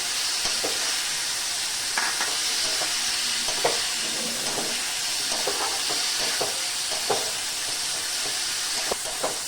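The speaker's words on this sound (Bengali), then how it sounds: "টমেটোটাকে এবার ভালো করে ভেজে নেব" Tomato and green peas fry in a pan with a steady, close sizzle and hiss, broken by scattered clicks and scrapes from stirring.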